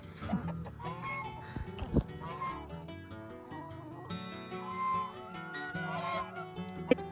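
Chickens cluck and call close by on a farm, a busy flock with overlapping clucks and short squawks continuing throughout.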